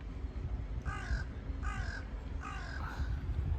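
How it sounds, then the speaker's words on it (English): Crow cawing in a garden setting: three clear bursts of harsh caws, fairly close and loud, spaced about a second apart over a low background rumble. "Oh, is it too loud, that bird?"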